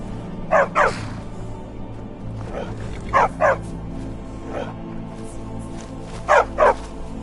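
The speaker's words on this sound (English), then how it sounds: "Need a trained war dog? Fiercest companion money can buy." A war dog in the Skyrim video game barks in three paired bursts, each a quick double bark, loud and near over a low, steady background hum.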